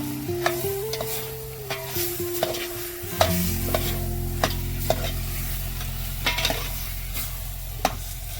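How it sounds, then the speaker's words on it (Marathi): Mutton stirred and fried in a pan over a wood-fired stove gives a steady sizzle, with repeated scraping and clacking strokes of the spoon against the pan and a low hum and tonal noise running underneath. "मटण चांगलं आपण मिक्स करून घेणार आहोत।"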